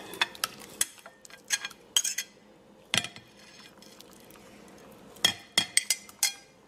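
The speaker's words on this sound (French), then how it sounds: "Maintenant, j'y ajoute ma viande." Raw chicken pieces tumble into a bowl of yogurt marinade and get stirred, giving scattered clinks and knocks of utensil against the dish in short bursts with quiet gaps, close by and fairly soft, with no talking.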